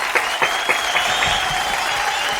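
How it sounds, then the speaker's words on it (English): An audience gives a performer a round of applause after an act on a live online variety show, with dense, crisp hand claps filling the whole stretch and a faint murmur of crowd voices underneath. "Give him a round of applause, everybody"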